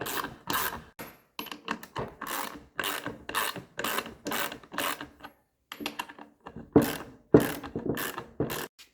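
A ratchet wrench clicks in rapid bursts while unscrewing the bolts of the front flange on a compactor's hydraulic cylinder, with loud, close ratcheting strokes separated by brief pauses.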